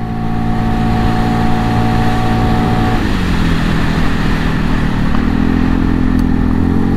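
A 2022 Segway AT6 SX 570 ATV engine drones loudly and steadily, then its note sags partway through as the CVT bogs, settling into a lower, rougher hum up close.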